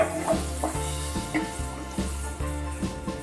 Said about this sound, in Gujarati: આ લસણ થોડું ગુલાબી જેવું થાય ત્યાં સુધી તેને શેકીને તૈયાર કરીશું